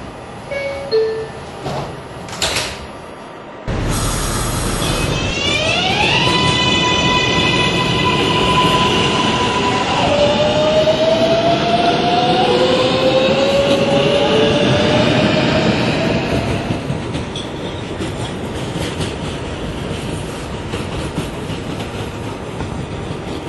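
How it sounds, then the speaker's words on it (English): An automated R142A 4 train on the New York subway starts up with a rising electric motor whine, then rumbles and rattles steadily along the track, loud and close throughout. "This is a new Lots Avenue bound 4 train."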